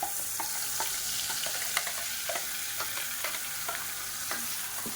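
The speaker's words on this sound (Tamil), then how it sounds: "இப்போ பாருங்கள், கடுகு கருவேப்பிலை நல்லா பொரிய ஆரம்பிச்சிருச்சு." Mustard seeds and curry leaves crackle and pop in hot oil, a dense close sizzle dotted with sharp irregular snaps, heard alone without talk.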